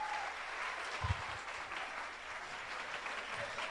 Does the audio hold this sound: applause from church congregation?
yes